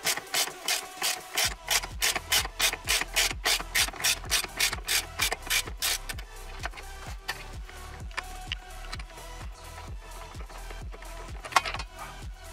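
A ratchet with an extension bar works loose the steering wheel nut on a Mercedes W124, giving a rapid series of crisp, rhythmic clicks close by. The clicking slows into scattered softer ratcheting and handling noises.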